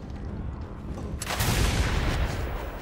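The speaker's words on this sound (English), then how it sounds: "And you can dodge my shotgun" Shotgun blasts in the Mad Max video game, a sharp broadband burst about a third of the way in followed by a heavy rumbling boom that lingers, with no talking.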